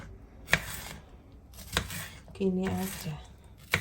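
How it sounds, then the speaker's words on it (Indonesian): A knife slices lengthwise through washed bell peppers on a board, giving a few crisp, separate cutting crunches spaced about a second apart, close up, with brief talk in between. "Saya iris memanjang."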